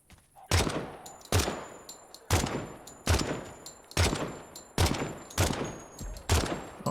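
Video game gunfire rings out as about eight evenly spaced loud single shots, each with a short decaying tail, with no talking over them.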